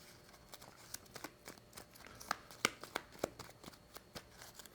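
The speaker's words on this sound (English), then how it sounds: "giving those a good shuffle" A deck of 18 game cards being shuffled by hand for a solo play session of the board game Converge, quiet crisp riffling and snapping bursts in an irregular rhythm, close by with no talking.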